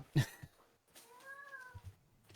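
A house cat meows once in a drawn-out, rising-then-falling call at close range, preceded by a few soft thumps and clicks of handling, with no talking.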